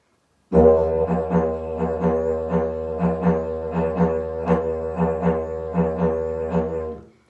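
A didgeridoo drones on a deep, buzzing fundamental while rhythmic pulses swell and accent it at a steady, repeating pace, played alone.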